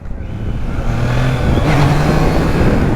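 A Triumph Trident 660 motorcycle engine revs during a wheelie attempt, rising from a rough idle to a louder, harder pull with wind noise over it.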